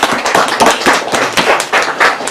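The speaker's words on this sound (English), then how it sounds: "Let's give Gary a round of applause" Clapping at an outdoor Battle of Plattsburgh commemoration ceremony at Dewey Tavern, honoring a participant; a small group's loud, close, uneven claps sound in quick bursts for a couple of seconds.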